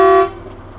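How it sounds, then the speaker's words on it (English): The tail of a loud, close semi-truck horn blast, a bright steady tone that cuts off and fades into low background rumble. "do you think we should honk the horn now?"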